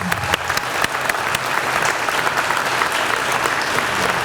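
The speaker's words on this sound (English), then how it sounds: "yes, round of applause" Loud, continuous applause from an audience at a school grand opening ceremony, a thick, steady roar of many hands clapping close by for the whole stretch without letup.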